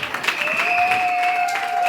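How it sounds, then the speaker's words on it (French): Applause at a wedding honoring the bride's parents, a steady wash of clapping from a gathered crowd with a sustained tone running underneath. "Vos applaudissements pour le parent."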